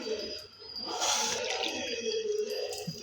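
Water is poured into a mixer grinder jar, a short splashing gush that fills the space for a couple of seconds, up close with no talk.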